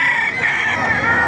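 Rooster crowing loudly and close up amid the bustle of a live chicken market in Baliuag, Bulacan, one sustained crow filling the moment.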